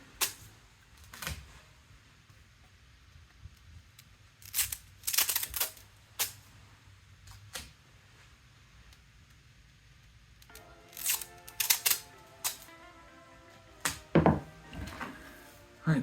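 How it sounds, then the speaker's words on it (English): Pieces are torn off a roll of tape by hand while binding a guitar neck, heard as scattered quiet rips and clicks spread out over a hushed room, with small clusters of tearing sounds between pauses. "I'm just gonna tear some pieces off"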